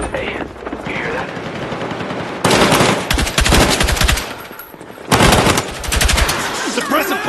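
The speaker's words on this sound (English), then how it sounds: "Suppressive fire!" Loud bursts of automatic gunfire rattle in the Battlefield 6 campaign mission, two long sustained volleys separated by brief pauses, with voices calling out amid the shooting.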